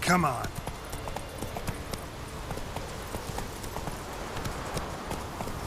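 Horse hooves clip-clop in a steady trot in The Witcher 3 video game, a fast regular pattern of close, crisp hoof strikes, with a brief louder rustle at the start and a short spoken phrase over it.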